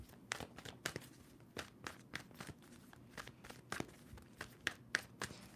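Tarot cards being shuffled by hand in a quiet room, a series of soft, irregular riffling and flicking bursts with light papery crackle, close and moderately faint, with no voices.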